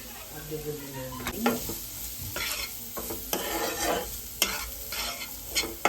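Chicken with black pepper and salt frying in a pan, with a steady sizzle and repeated close scraping stirs of a spatula across the pan.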